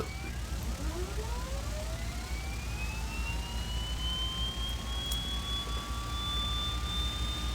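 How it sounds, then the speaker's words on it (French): A Canadair CL-415 water bomber's right engine spools up, its whine rising steadily in pitch over a constant low rumble, fairly quiet and distant. "Le moteur droit démarre."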